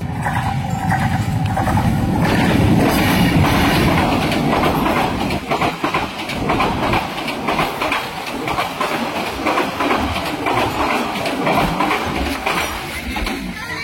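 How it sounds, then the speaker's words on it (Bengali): A train runs along the Dhaka–Chittagong railway line, a loud, close rumble with steady clickety-clack wheel noise that fills the first half and then eases off as the cars roll past. "তো একটা ট্রেন আসতেছে"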